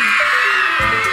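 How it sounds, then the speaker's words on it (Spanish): Several people scream together in a loud, sustained shout that lasts about a second, close and harsh with no pauses. "¿para qué gritan si estoy despierta?"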